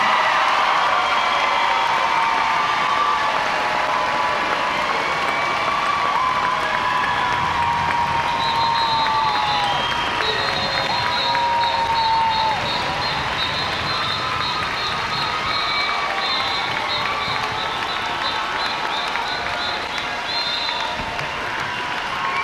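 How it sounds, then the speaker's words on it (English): Sustained applause and crowd cheering for a graduating high school class of 2019 at a commencement ceremony, a steady wash of clapping with scattered whoops and a whistle-like tone running through the middle. "please join me in another round of applause for our graduates, the class of 2019."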